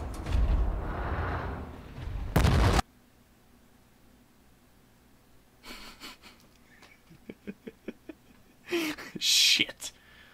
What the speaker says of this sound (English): I was too slow to escape the blast from the bomb.